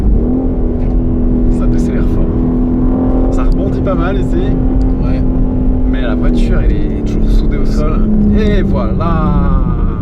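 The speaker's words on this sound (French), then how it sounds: "On va tester le freinage. Ça décélère fort." A 2023 BMW M3 Touring engine drones steadily with a sustained tone that shifts and drops as the car brakes hard, with people talking in French over it throughout.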